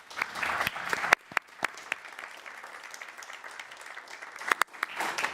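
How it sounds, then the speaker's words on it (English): Audience applause at a Full Sail University Hall of Fame live event, a steady patter of clapping from a modest crowd with a few sharper individual claps standing out, lasting throughout the clip. "So let's give them a round of applause"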